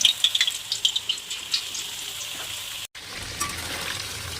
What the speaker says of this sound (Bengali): এবং ভাজা হচ্ছে, এগুলোকে একটু লাল লাল করে ভাজলে কালারটা খুব ভালো আসে।